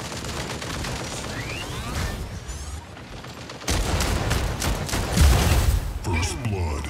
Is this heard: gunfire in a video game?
yes